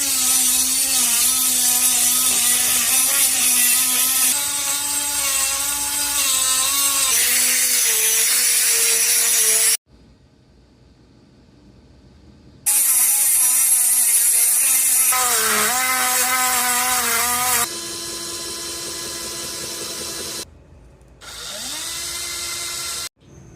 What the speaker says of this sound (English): I've got the crack grooved out nicely and a hole drilled at both ends to stop the crack, and ground away a lot of the material around the crack